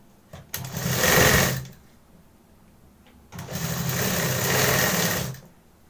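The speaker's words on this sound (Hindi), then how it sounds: "अब इसको हम फोल्ड करके और इस तरह से एक सिलाई लगा देंगे।" A sewing machine stitches a folded 1.5-inch strip of blouse fabric in two loud, close bursts of whirring, separated by a short pause, with no talk.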